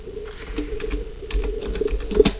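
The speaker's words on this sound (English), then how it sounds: "I'm recording a thing and I'm typing away on my computer." Irregular keystroke clicks from typing on a computer keyboard, close and moderately loud, with a faint steady tone beneath and no speech.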